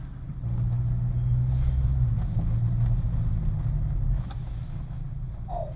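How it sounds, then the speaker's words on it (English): A Ranger Storm Track utility vehicle drives across a farm, its engine giving a steady low rumble that holds for several seconds before easing slightly, with no talk over it. "at least we can demonstrate how lovely this Ranger Storm Track is"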